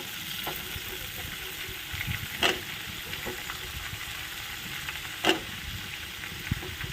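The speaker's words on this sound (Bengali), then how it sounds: "আলুটাও এর সঙ্গে আমি ভেজে নিচ্ছি" Chopped potatoes and plenty of garlic fry in a pan, a continuous moderate sizzle with two brief sharp clatters of stirring or utensil contact.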